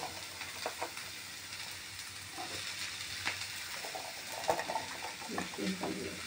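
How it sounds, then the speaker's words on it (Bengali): Onion and potato frying together in a pan, with a steady sizzle and scraping stirring strokes throughout, up close and alone without talk. "আলুগুলো দিয়ে পেঁয়াজটাকে ভালো করে ফ্রাই করতে হবে"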